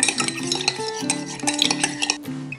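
A spoon stirs coconut juice mixture in a glass, producing steady clinking and scraping with bright metallic rattles, close and continuous throughout.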